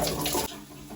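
Water runs from a tap while a UK home's plumbing system drains, a brief rushing gush that drops in level halfway through, with no talking.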